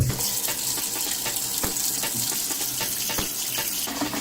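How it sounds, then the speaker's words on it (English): Tap water runs steadily into a pot at a kitchen sink, a continuous close splashing gush with small clinks, heard alone without talk. "let's go and fill that bad boy up with water"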